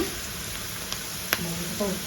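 Spices for tempering fry in hot oil in a pan as moringa leaf rasam is prepared, a steady close sizzle with a few light clicks and stirring taps.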